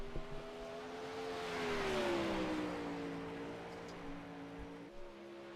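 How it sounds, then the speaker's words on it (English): A 360 sprint race car's engine drones steadily out on the track, heard from a distance with a slowly rising and falling pitch as it circles, no talk over it. "Gonna get Trace Olson in that 76 LGR Racing Coltrane Customs car out onto the track."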